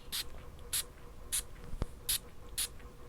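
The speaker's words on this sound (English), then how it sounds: "We're going to spray it on the strip, and then we'll spray some more on my arm." Five short, crisp perfume spray bursts onto a paper strip, spaced about half a second apart, close and fairly quiet, with a faint tap in between.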